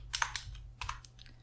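Computer keys are pressed during a Pascal programming session, giving a handful of close, crisp plastic clicks in two short bursts over a low steady hum.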